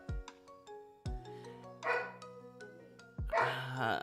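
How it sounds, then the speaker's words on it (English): Dog barks sound in the background under bright musical chimes and tones, giving a few brief, fairly faint woofs among the tones. "sorry for the dog, by the way."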